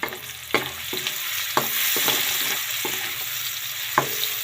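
Onions sauté in a pan for Filipino beef steak, a steady loud sizzle punctuated by several distinct clicks and scrapes of a utensil stirring against the pan.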